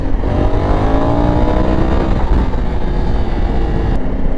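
A Honda Africa Twin motorcycle pulls hard in second gear with a little clutch while lifting its front wheel, and the engine roars loudly and continuously with a rising tone.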